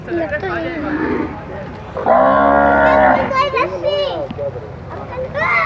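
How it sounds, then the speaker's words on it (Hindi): Calves on a cattle farm being raised for Bakrid moo loudly and close, one long harmonic call in the middle with shorter lows around it, while people talk nearby. "अभी आपको इनके बछड़े भी दिखाता हूँ जो इस साल के लिए तैयार हो रहे हैं"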